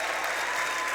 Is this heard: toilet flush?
no